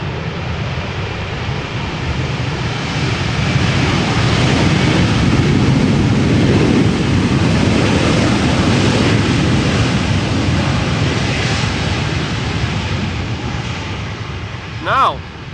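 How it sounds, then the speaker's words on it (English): An Airbus A320 arriving at Amsterdam Schiphol Airport gives a long, broad roar that swells and fades, with wind and a brief voice near the end. "A320 arriving from Palma de Mallorca."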